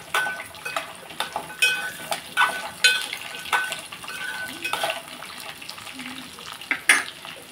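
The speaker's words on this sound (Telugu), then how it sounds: "ఇదిగోండి వేగుతున్నాయి కదా, పచ్చిమిరపకాయలు వేగిపోయి, పల్లీలు వేగిపోయి కదా" Green chillies, peanuts and coconut pieces fry in a pan, with repeated scraping and stirring clatters of a utensil against the pan over a steady sizzle, close and fairly loud.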